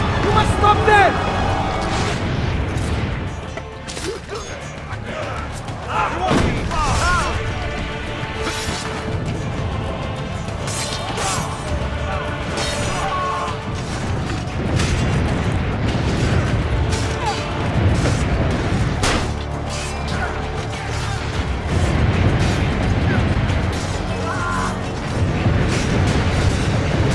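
Heavy booming cannon blasts and crashing impacts in Assassin's Creed: Brotherhood, repeated irregularly under shouting voices and dense battle noise.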